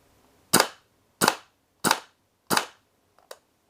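A Umarex VFC UMP gas blowback airsoft SMG dry firing: four sharp, evenly spaced cracks, close and loud against silence, followed by a fainter quick double click.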